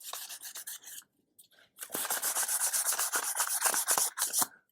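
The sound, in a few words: block sanding a crankshaft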